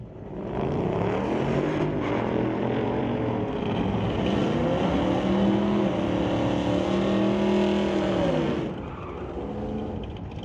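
A 2024 Ford F-150 and a 2022 Mustang GT in a drag race launch and roar down the strip together, loud sustained engine noise with rising pitch that fades after about eight seconds, and no voices over it.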